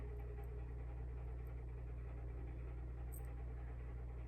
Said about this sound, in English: the dogs are around the coop and they're making me nervous